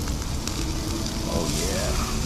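Food sizzles and crackles steadily on a firebox camp stove outdoors as it is flipped, a close, continuous frying hiss with faint breeze-like noise and no talking.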